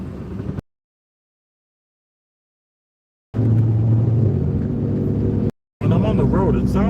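A car with a broken muffler rumbles low and loud in slow traffic, the steady drone cutting out briefly mid-stretch before returning.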